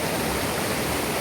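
A fast, forceful stream near Kudlu Theertha falls rushes in a dense, loud, unbroken roar, close and steady with no other sounds above it.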